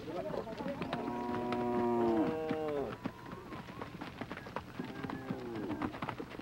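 Maasai cattle low in several drawn-out moos as the herd moves out to graze from a thornbush enclosure, calls fairly close and overlapping, with a few bird chirps around them.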